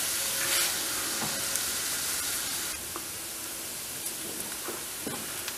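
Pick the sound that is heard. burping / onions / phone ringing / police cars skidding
onions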